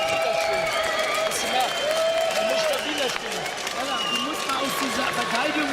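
A boxing arena crowd of 14,000 roars and applauds during the Arthur Abraham vs Jermain Taylor fight, a continuous dense wash of cheering and clapping with a commentator talking over it.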